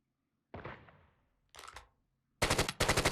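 Gunfire from Call of Duty Mobile: a single loud shot, then a second sharper report, and then two quick bursts of rapid automatic fire, all close and clear, with nobody talking.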